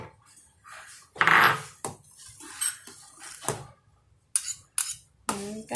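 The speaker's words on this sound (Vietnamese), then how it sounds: "Mình sẽ nhắc cái nồi nhỏ của mình xuống nha các bạn." A small metal cooking pot clanks and scrapes as it is lifted off and set down, with sharp clinks and dull knocks against the stove, close by.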